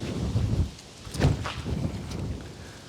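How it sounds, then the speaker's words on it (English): Strong wind on an outdoor disc golf course at a farm in Frankfort, Kentucky, buffeting the microphone with loud rumbling gusts that swell and fade. "Oh, this wind is insanity."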